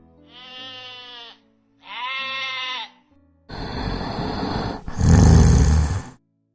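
Sheep bleat in a Spanish children's story about snoring: two wavering bleats, then two harsher, louder noisy bleats, each separated by brief pauses and clear of speech.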